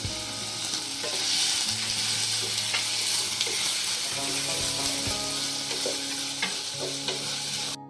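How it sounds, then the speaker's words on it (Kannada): Onions sizzle and fry in oil with cumin and pepper in a pan, a steady close crackle running throughout with scraping stirs and small clinks, no talking. "ಒಂದು ಪ್ಯಾನಲ್ಲಿ ಆಯಿಲು, ಈರುಳ್ಳಿ ಮತ್ತೇನು ಹಾಕಿದ್ದೀನಿ, ಜೀರಿಗೆ, ಮೆಣಸು, ಕಡೆಗೆ ಈರುಳ್ಳಿನೆಲ್ಲ ಫ್ರೈ ಮಾಡಬೇಕು"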